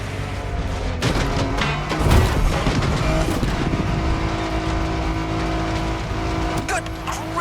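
A car tears off-road at full speed in The Crew Motorfest video game, its engine roaring continuously with tire squeals and skids, loud and close throughout.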